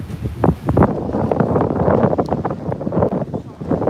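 Heavy wind buffets the microphone in rough, rumbling gusts during a New Year's Eve walk in Playa de las Americas, with a voice partly buried beneath the roar.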